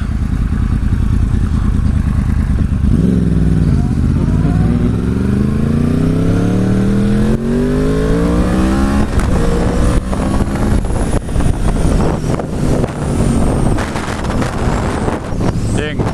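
A motorcycle rides along a road, its engine loud and close, revving up through rising gear changes with wind buffeting the microphone throughout.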